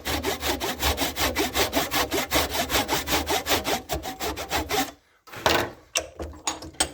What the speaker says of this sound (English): I've sawn down both sides there